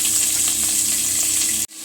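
Chopped onions and green chillies sauté in sesame oil in a cooker with a loud, steady, close sizzle that cuts off abruptly near the end.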